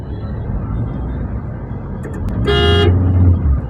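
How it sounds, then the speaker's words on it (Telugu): In a heavy traffic jam near the Pollachi bus station, a single loud car horn blast sounds over the close, steady rumble of idling engines and roadway noise. "Heavy traffic jam."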